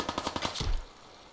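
Gunshots in Fallout 4, a rapid automatic burst of about six evenly spaced cracks followed by one heavier low thump, loud and close with no talking over it.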